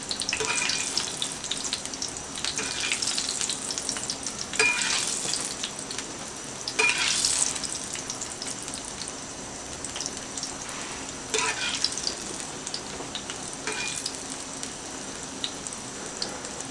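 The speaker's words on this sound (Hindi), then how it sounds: "तो अब चंद सेकंड मज़ीद फ्राई करके हमने इसको निकाल लेना है।" Chicken chapli kabab fries in a pan of oil, a dense, steady crackling sizzle running throughout with periodic swells of bubbling and spattering, close up.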